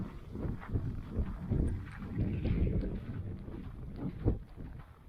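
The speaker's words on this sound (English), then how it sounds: "Can you hear our snow crunching?" Footsteps crunch on snow and ice during a freak snowstorm, irregular muffled crunches close to the microphone mixed with rumbling wind buffeting.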